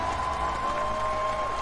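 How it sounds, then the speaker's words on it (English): An audience at the Overwatch League Grand Finals applauds in a steady, dense wash of clapping and crowd noise, with a sustained tone running beneath it. "give yourselves a round of applause for witnessing history."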